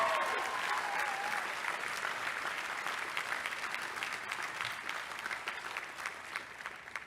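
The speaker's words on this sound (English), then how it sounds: "Let's give them a big round of applause for the great work that they have done." Commencement audience applause from a large crowd, dense and sustained for several seconds, loud at first and easing slightly toward the end, with faint crowd noise and a whistle at the start.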